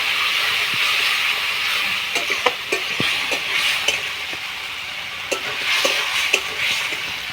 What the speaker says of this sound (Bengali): আলুর সঙ্গে মশলাটাকে ভালোভাবে কষিয়ে নেব